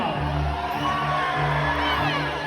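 A crowd at Medieval Times cheers and whoops in a big hall, a dense, loud roar of many voices with shouts rising over it, continuing throughout.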